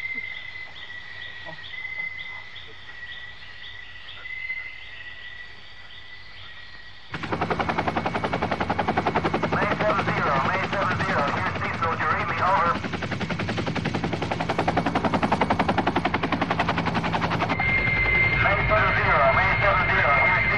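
A military helicopter in a 1988 war film: a steady rotor drone hangs in the background, then sustained, dense machine-gun fire breaks out and continues loudly over it.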